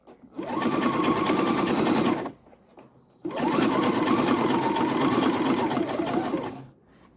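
A sewing machine stitching in the ditch where two fabrics meet, a pocket being repaired. Two steady, close runs of rapid whirring stitches with a short pause between them.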